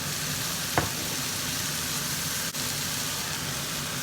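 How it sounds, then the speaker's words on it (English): Potatoes tipped into a hot pan already sizzling with caramelized onion and mushrooms, a steady loud frying hiss throughout with a brief sharp clatter near the start. "In goes the potato."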